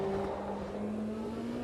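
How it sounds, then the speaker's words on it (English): A racing kart engine in the sim racing game Automobilista 2 drones in a steady buzzing hum at a fairly constant pitch, faint and continuous, with no voices. "This sounds quite nice. It is a kart."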